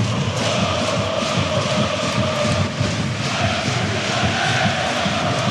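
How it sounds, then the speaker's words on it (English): Home supporters roaring at the Allianz Arena during a Bayern München versus FC Augsburg Bundesliga match, a dense, steady wall of crowd noise holding at full level throughout. "Just listen to the roar of the home crowd here early doors"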